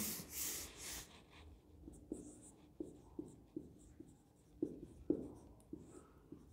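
Chalk or marker writing on a classroom board during a chemistry lecture on alcohols: a steady series of short, close scratchy strokes and taps roughly every half second, quiet, with a brief rub at the start and no talk.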